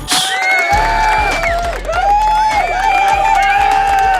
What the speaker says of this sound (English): We're applauding for ourselves and everybody outside the studio